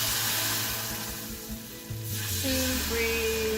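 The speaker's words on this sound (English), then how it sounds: "That was teaspoons of red wine into my roux." Red wine hitting a hot roux in a pan, a loud continuous sizzle and hiss with a brief surge as the liquid goes in, alone without talk.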